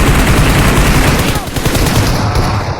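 Shotgun blasts in a competitive mobile shooter game, a loud rapid burst of gunfire filling the short stretch with a brief dip in the middle.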